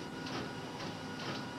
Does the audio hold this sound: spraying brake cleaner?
no